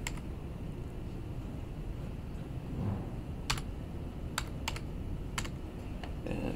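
Someone types height and weight into a BMI calculator app on a computer keyboard, producing sparse, crisp keystrokes in a few quick clusters over a quiet room hum.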